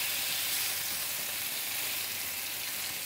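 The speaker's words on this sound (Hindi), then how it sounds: "चिकन ऐड करने के बाद इसको हम तकरीबन 1 मिनट के लिए मीडियम हीट पर इसको भून लेंगे।" Chicken fries on medium heat in a pan, giving a steady, dense hiss of sizzling oil that holds constant throughout, close by with no voices.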